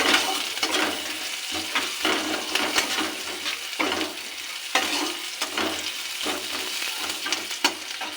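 Chopped onions fry in a little oil with cumin in a kadai, a steady close sizzle broken by repeated scraping strokes of a spatula as they are stirred, with no talk.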